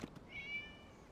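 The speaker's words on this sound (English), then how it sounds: "It was just a cat." A cat meows once in a video game cutscene set at a festival, a short, clear, rising call heard alone after a couple of faint knocks.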